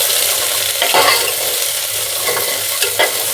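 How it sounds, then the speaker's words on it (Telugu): Beans, carrots, green chillies and onions stir-frying in ghee, a steady close sizzle throughout with a few louder scraping stirs of the spoon, no voices. "ఇలానే ఫ్రై కానిద్దాము. బీన్స్, క్యారెట్, పచ్చిమిరపకాయలు, ఉల్లిపాయలు."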